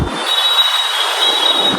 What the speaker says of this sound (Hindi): ऐसा कुछ है मोहन नगर मेट्रो स्टेशन।